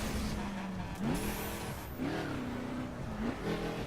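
Camaro engine in the racing game The Crew, revving and accelerating through repeated gear changes, the pitch climbing and dropping in steady pulls with faint tire squeal, loud and close.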